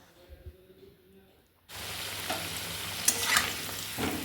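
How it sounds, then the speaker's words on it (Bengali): Potato pieces frying in refined oil for a home chicken curry, a loud steady sizzle that bursts in suddenly after a quiet start and carries on with occasional stirring scrapes, no talking over it. "দেখো আলুটা এবার ভেজে দিচ্ছি"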